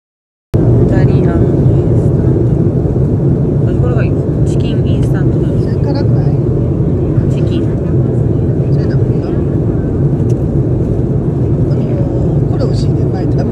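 Steady, loud airplane cabin drone during flight, heard from a window seat near the rear of the aircraft, a continuous low roar running throughout with faint talk beneath it.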